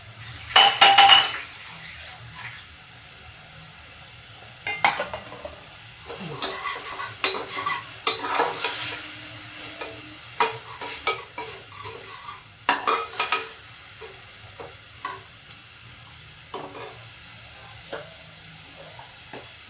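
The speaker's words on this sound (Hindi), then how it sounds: "थोड़ा सा भून लेंगे, इसका कच्चापन खत्म हो जाए।" Moong dal sabzi stir-fried in a pan, with a spoon scraping and clinking against the metal in uneven bursts over a low, steady sizzle, fairly close, with no voices.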